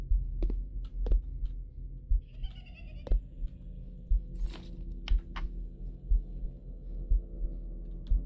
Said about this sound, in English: Hence why you hear some growling and a heartbeat